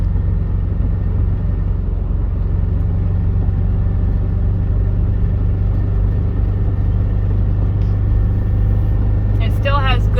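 A 2006 Honda Element's small 4-cylinder engine, running with a misfire, pulls up a hill in a steady, loud, close rumbling drone from inside the cabin, with a brief higher chirp near the end.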